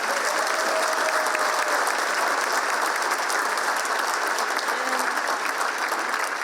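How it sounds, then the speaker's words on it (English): Large crowd applauding for the New York State Labor Commissioner at a Long Island Federation of Labor annual dinner, continuous dense clapping filling the hall at an even, strong level throughout. "Let's give her a huge round of applause."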